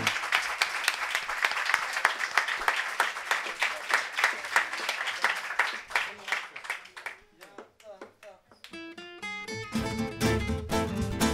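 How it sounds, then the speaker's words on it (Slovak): An audience applauds at a folk Christmas concert and CD launch, dense steady clapping that thins out, then a voice speaks and music begins to play as the applause fades. "takže veľký potlesk jemu"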